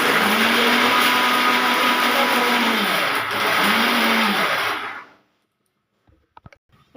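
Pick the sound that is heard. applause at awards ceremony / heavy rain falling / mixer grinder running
mixer grinder running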